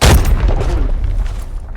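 A heavy, booming grenade explosion in the video game Arena Breakout hits at the start, then rumbles and fades over a second or so.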